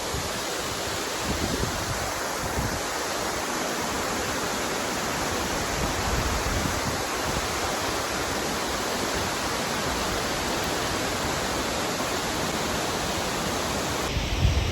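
Fresh water pouring over a dam in a Sanford, Maine park in early spring, a dense, steady broadband rush that holds unchanged and fairly loud throughout with no voices.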